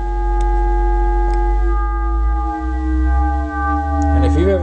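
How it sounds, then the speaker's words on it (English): Frequency modulation synthesis tones: steady stacked harmonic partials holding over a low drone, with a few brief clicks and a swooping, sliding chirp near the end, loud and close. "if you've ever heard sounds like this, they're not atypical of frequency modulation synthesis."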